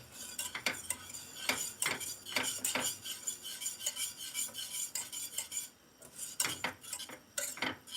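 Whisk scraping and clinking in a bowl of orange cheesecake batter, quick repeated strokes in bursts with a brief pause before resuming, close and fairly loud.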